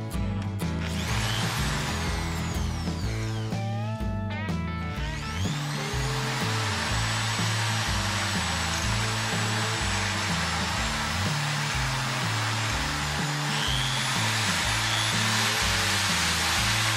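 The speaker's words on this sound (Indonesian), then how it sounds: "setelah dibor secara perlahan, maka rapikan lubangnya dengan kikir gergaji" A power drill bores holes into a mountain bike frame to convert a dropper post from external to internal cable routing. A loud, steady motor whine runs throughout, its pitch shifting as the bit bites, with no voices.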